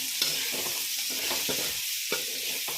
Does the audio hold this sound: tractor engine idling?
no